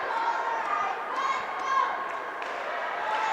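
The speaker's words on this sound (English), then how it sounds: "Here's the crowd chant." Crowd noise at a junior ice hockey game in an arena, a sustained roar of many voices chanting and cheering together at steady loudness throughout.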